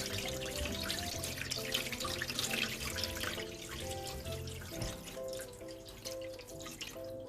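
Water runs and splashes from a tap into a sink while raw meat is washed, a steady close trickle with light dripping and clattering throughout.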